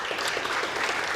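Conference audience at a Korean social-services investment event clapping to welcome a government official to the stage, a dense steady patter of many hands filling the brief moment.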